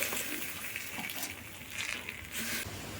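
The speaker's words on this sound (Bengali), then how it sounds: "এখন আমি ডাল ঢেলে দিই।" Lentils (dal) go into a hot pan, a soft wet rush followed by low bubbling sizzle, fairly quiet and near, with no talking.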